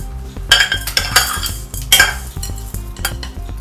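A spoon stirring tempering into coriander rice in a metal pot, a quick run of scraping strokes and sharp clinks against the vessel, close and loud with irregular rhythm.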